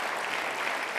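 A brief burst of steady, dense applause from a crowd, even and sustained throughout.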